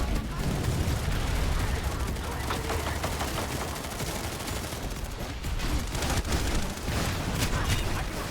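Sniper fire and other gunfire in a multiplayer shooter game across an open expanse near a tank, heard as dense, continuous bursts of shots and booms, with a voice talking over the top.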